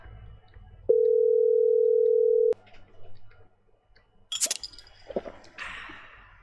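A steady telephone dial tone sounds loud and alone for under two seconds as a call is placed to a house, cutting off abruptly before quieter clicks and rustling noises follow.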